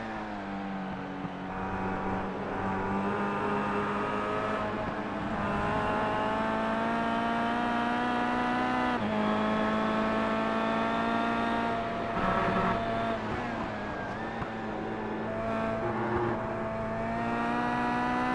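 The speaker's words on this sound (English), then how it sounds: "We're on board then with Baker in that number 7 car." A high-revving Kia Cup race car engine at Donington Park roars steadily from onboard, its pitch climbing and dropping through gear changes, loud and continuous throughout.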